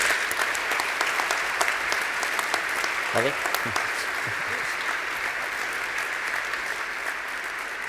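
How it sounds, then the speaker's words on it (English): Steady, fairly distant applause from an audience at a business award ceremony in Oslo, continuing throughout while a voice briefly speaks over it. "Big applause"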